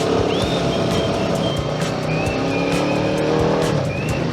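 A motorcycle's rear wheel spins for traction on slippery gravel, a continuous loud engine drone with scrabbling tire noise throughout, close up, and a few short bird chirps above it.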